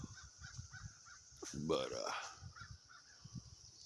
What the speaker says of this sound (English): There goes my crow.